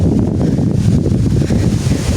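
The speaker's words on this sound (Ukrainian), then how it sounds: "Вітер капець." Strong wind buffets the microphone in a constant, heavy low roar that never lets up, with no voices over it.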